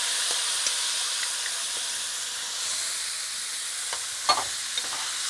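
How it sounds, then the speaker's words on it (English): Vegetables and anchovy are stirred in a pan over low heat. A steady, loud sizzling hiss runs throughout, with faint scrapes and clicks from the stirring. "And then move that around so that you can get all of this coated with the anchovy."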